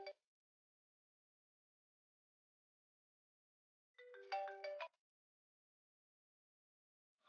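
A phone ringtone for an incoming call in a Telugu TV drama, a short melodic electronic burst of chiming tones against silence, with brief fragments of the tune at the start and end.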